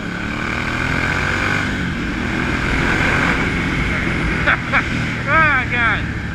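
Ducati S2R 800 motorcycle riding, a steady loud engine drone with wind rush throughout and a few brief rising whines near the end, with someone talking over it.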